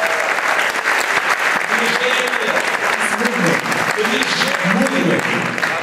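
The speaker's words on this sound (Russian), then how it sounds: "Аплодисменты Иисусу подарили." A church congregation applauds during a sermon, with steady, dense clapping throughout and voices mixed in.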